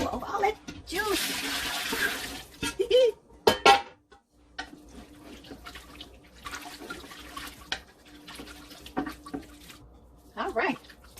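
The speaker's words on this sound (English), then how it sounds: "Now we're gonna pour over all that juice." Shrimp and crab stock poured over a roux in a pot, with splashing liquid and clanking pots and utensils close by, broken by pauses and faint talk.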